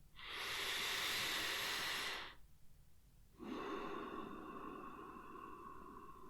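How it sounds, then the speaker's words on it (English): A big, deep breath in, close and airy, lasting about two seconds, followed by a short pause and then a longer, softer exhale. "Close your eyes for a moment and take a big, deep breath in."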